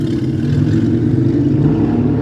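Steady, loud traffic rumble drifts up through an open window by a bay, a continuous low engine drone from passing cars with no breaks or voices.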